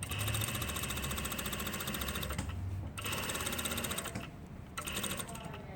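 A sewing machine stitches through pinned layers of fabric in fast, even mechanical bursts, pausing briefly twice between runs, close and fairly quiet.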